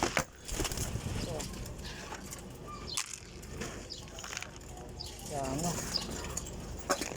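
Pigeons give soft, low cooing calls amid faint fluttering and background noise outdoors, while a person talks briefly over them.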